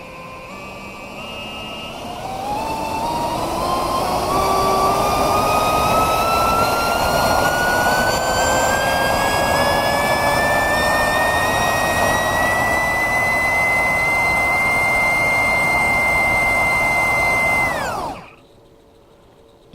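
An electric motor spinning a propeller on a thrust stand, a loud whirring drone that climbs steadily in pitch over the first few seconds, holds a high whine, then cuts off abruptly near the end.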